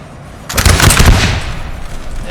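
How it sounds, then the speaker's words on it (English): British line infantry fire a musket volley in a Napoleon: Total War battle at Krabbendam in 1799, a loud burst of overlapping crackling shots that swells and then fades into a rumbling tail. "There you go, the British firing."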